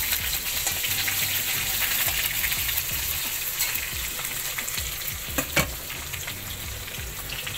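Chopped leafy greens frying in a home kitchen pan, a steady close sizzle with soft stirring scrapes throughout, no voices.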